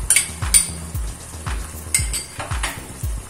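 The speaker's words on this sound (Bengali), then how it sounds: "এবং ভালো করে এটা আমরা মিশিয়ে নেব।" A spoon scrapes and clinks repeatedly against a pan while Manchurian gravy paste is stirred in, giving close, rhythmic metallic scrapes about every half second with a faint sizzle beneath and no talk.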